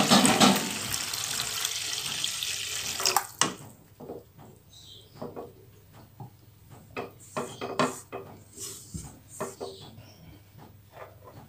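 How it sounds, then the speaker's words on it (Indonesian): Water is poured into a pan of cooked spices while making seblak, a spicy Indonesian noodle soup. It gives a loud, splashing gush for a few seconds, then scattered clinks and light clatter of cookware follow. "Kemudian aku masukkan lagi air."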